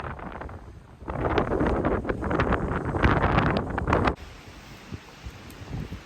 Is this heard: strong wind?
yes